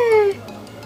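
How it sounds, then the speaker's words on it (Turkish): A very small kitten, apparently brought in from outside, gives one short, loud, close-up meow that slides downward in pitch, followed by quiet indoor room tone with no talking. "Dışarıdan kedi mi getirdin?"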